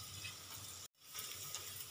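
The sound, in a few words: fried potatoes being stir-fried into spiced lentil curry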